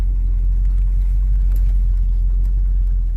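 A Monte Carlo's engine idles just after a cold start, a loud, close, steady low rumble with no talk over it.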